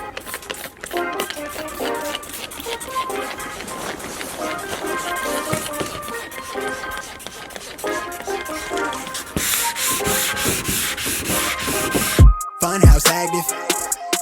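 Rhythmic sanding rasps over primer topped with a black guide coat, scrubbing steadily across the surface for the whole stretch, with music playing loudly alongside.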